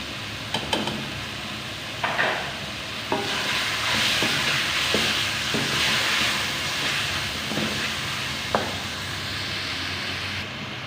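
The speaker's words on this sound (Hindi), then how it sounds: "पाँच से 6 मिनट के लिए चिकन को भी भून लेंगे" Chicken pieces fry and get stirred in a pan, a steady broad sizzle running throughout with occasional sharp scrapes and clacks of a spoon against the pan, close and fairly loud, with no talking.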